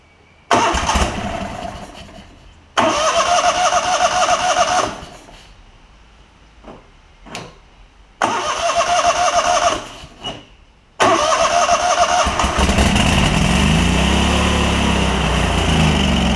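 A Kohler Command V-twin engine on a Lincoln Ranger 8 generator welder, with a fuel pump problem, cranks in loud repeated bursts, stalling between tries, then catches and runs steadily near the end.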